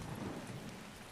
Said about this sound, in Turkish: Yağmur yağıyor yalnız.